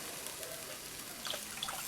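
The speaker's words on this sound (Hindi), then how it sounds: "इसमें अब आप ऐड करेंगे थोड़ा सा पानी।" Water is poured into a pan of seekh kabab biryani, a steady rushing splash lasting under two seconds with no talk.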